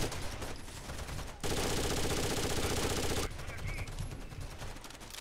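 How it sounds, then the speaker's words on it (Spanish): Teammate's automatic fire in the PC game Rainbow Six Vegas 2: a loud, close, continuous burst lasting about two seconds, standing out against quieter game ambience before and after. "Mi propio compañero me está disparando."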